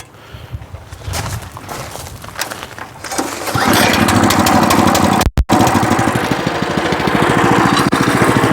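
A two-wheel walk-behind tractor (motoblock) engine sputters and then catches into a loud, steady, close running drone with one brief dropout.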